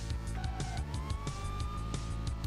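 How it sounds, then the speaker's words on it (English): A police siren in a 1990s PC racing video game wails over the game's rhythmic, engine-heavy soundtrack, fairly faint and brief, with no talk. "It's the sound of the police."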